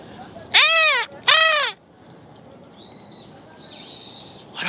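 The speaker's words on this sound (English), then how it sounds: "Those birds are going crazy." Crow-like birds in Akihabara, Tokyo, give two loud, harsh caws close by, followed by fainter, higher whistling calls against quiet street ambience.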